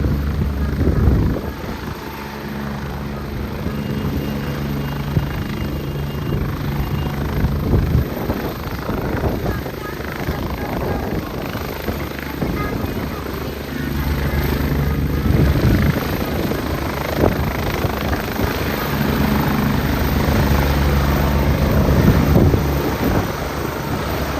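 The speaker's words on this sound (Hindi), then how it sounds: "अभी हवा चली है चौपर की वजह से।" Helicopter rotor downwash at a campaign event in Himachal Pradesh, a loud, continuous roaring and buffeting wind that surges and eases, with voices talking underneath.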